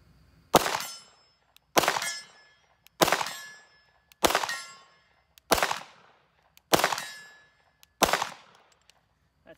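Seven evenly spaced pistol shots from a CZ P-07 ring against a steel target at 50 yards, each a sharp crack followed by a bright metallic clang that fades quickly, heard alone with no talking.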